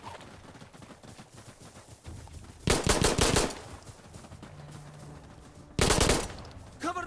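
An AUG rifle fires in Insurgency: Sandstorm in two sharp, rapid automatic bursts a few seconds apart, loud and crackling over quiet background ambience.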